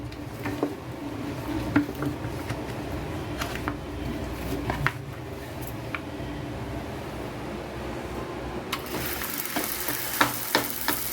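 Jaggery cooks in a pan on a stove while being stirred for ghee bobbatlu: a steady close sizzle with scattered scraping stirs throughout, with a brighter, hissier burst near the end.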